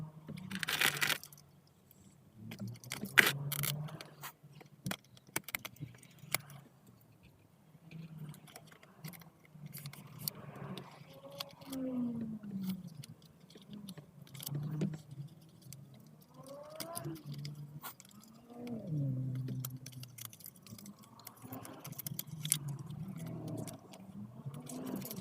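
A Motorola MA1 wireless Android Auto adapter is unboxed inside a car, with faint scattered crackles, rustles and tapping of packaging and handling over about 25 seconds, quiet and close, with occasional low murmurs.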